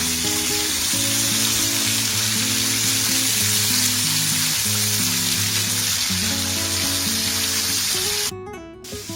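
Tomatoes fry in a pan over a medium flame, giving a steady, close sizzle with a bright hiss throughout, and a brief clatter near the end.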